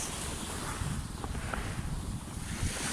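Ocean surf and wind rush along a tropical seashore during a beach walk, a faint, steady broadband wash with small irregular swells and no speech.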